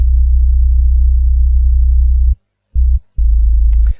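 Deep, loud sub bass from a beat in production drones steadily, then cuts out twice in quick succession before resuming and fading.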